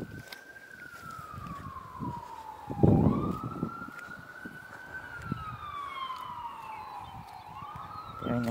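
An ambulance siren outside sweeps up and down in long wails, moderately distant, with a brief loud thump partway through and faint background noise.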